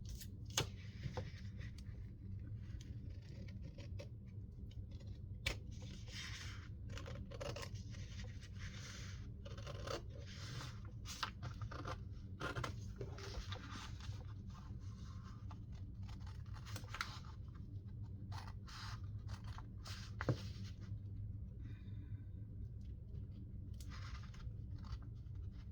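Scissors slowly cut through junk mail paper for a junk journal, a long run of close, crisp snips and paper rustling over a low steady background hum.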